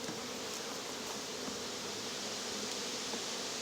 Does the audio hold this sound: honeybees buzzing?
yes